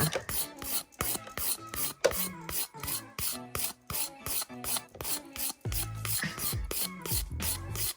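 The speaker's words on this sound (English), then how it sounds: "I'm gonna try it with my file first" Rapid, rhythmic back-and-forth rasping of a nail file, close and steady, continuing without pause and with no speech.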